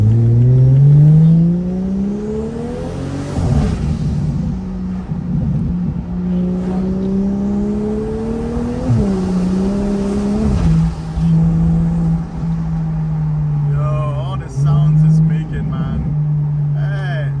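A BMW 335is engine runs close by with rising revs and several throttle blips over a steady drone, and it gradually settles back toward idle.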